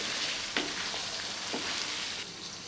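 Potatoes, tomatoes and onion stir-fried with spices for a Thai-style okra curry, a steady broadband sizzle with a few sharp scraping stirs of a spatula, close and alone.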